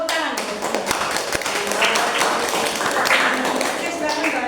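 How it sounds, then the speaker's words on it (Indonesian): A schoolroom class claps hands after agreeing on class rules, irregular claps and taps mixed with children's voices and chatter, close and moderately loud. "Tepuk tangan."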